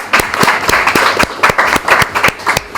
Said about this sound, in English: if you can applaud for them.